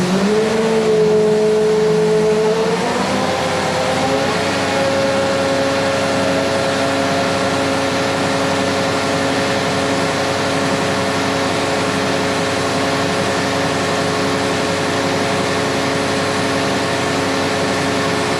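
A tractor engine idles steadily inside a shop, loud and close, with a sustained droning hum and a brief shift in pitch near the start before it settles into an even run.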